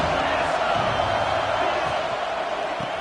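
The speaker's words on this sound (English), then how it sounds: "This crowd ready to make its presence known." Stadium crowd at a college football game, a broad sustained roar of many voices that holds loud and steady, with faint knocks and shouts rising out of the wash and no clear talk on top.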